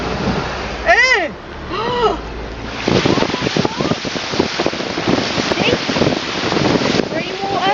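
Floodwater from heavy rainfall rushes steadily near Airbus UK, a loud continuous broadband roar with wind buffeting the microphone, and voices can be heard over it early on.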